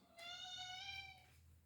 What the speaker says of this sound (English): My cat's very affectionate.